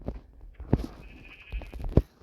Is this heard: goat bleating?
yes